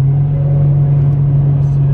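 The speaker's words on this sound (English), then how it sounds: "Downshifting, it's really fun." Car engine humming loud and close with a steady low drone during a downshift, a brief constant tone with no clear rev rise.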